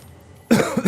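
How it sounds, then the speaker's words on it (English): A man coughs several times in quick succession, loud and close, after a moment of near silence, during a Satisfactory gaming session. "Man, I love coughing."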